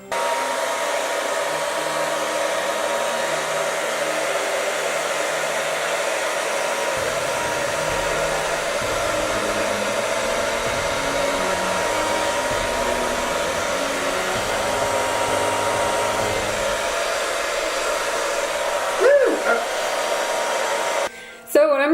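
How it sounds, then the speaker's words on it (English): A hair dryer blows on wet acrylic paint, a steady close whirring roar that runs unchanged for about twenty seconds before a brief bump and cut-off at the end. "And next comes another round of hair dryer time"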